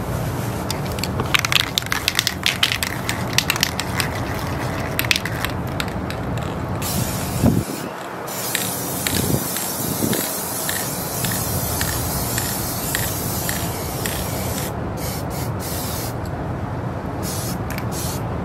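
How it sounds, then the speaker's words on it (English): A spray paint can hisses as black paint is sprayed inside packaging boxes, with a close, steady spray broken by short pauses and faint rattling and clicking handling noises. "I'm actually gonna go through and spray paint the inside of them black"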